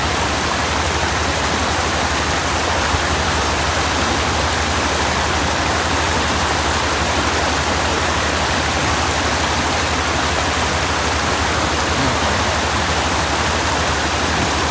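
Fast-flowing floodwater surges during heavy rain in Udupi district, a loud, unbroken roar of rushing water that holds steady for the whole stretch with no pauses.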